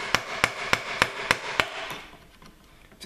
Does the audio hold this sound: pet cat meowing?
no